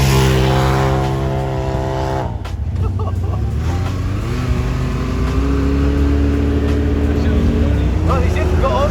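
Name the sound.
car doing donuts at a car meet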